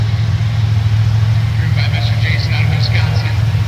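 A deep, steady engine rumble from a 622 cubic inch Chevrolet Colorado dirt drag truck at the Championship Dirt Drags in Steelville, Missouri, heard loud beneath a commentator speaking over it.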